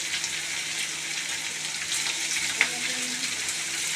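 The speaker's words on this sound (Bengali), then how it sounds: "পেঁয়াজটা এবারে লাল করে ভেজে নেব" Onions frying in hot oil with cumin, garam masala, bay leaf and dried chilli for chicken kadai, a steady close sizzle with a faint stirring clink partway through.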